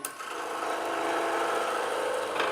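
A skew chisel shears wood spinning on a lathe at a woodturners' demonstration, giving a steady broadband scraping hiss that holds evenly throughout, close and continuous with no speech.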